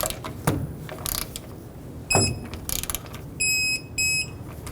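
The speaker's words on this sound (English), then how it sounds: "Let's start with 37 foot-pounds." A torque wrench tightens a front lower control arm bolt on a 2015-2020 GMC Yukon to 37 foot-pounds, giving a few sharp ratcheting clicks followed by two short, loud electronic beeps.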